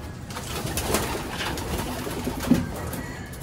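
Pigeons coo steadily at close range in a loft where young birds are kept, low soft calls repeating over a constant background murmur with no talk.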